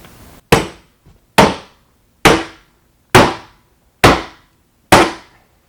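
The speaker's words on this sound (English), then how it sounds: "Get a bigger hammer." Six loud, sharp hammer blows land at an even, unhurried pace, each ringing out and fading before the next.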